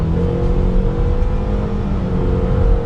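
Engine of a 2022 Cadillac XT4 AWD Sport SUV with a 2-liter engine, heard from inside as it accelerates in manual mode: a steady, close, continuous drone with low rumble and a slowly rising tone, no talk.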